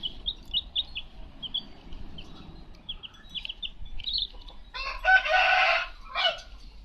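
Newborn chicks only a few days old chirp in a rapid run of high, thin peeps near the mic, with a denser burst of louder cheeping toward the end.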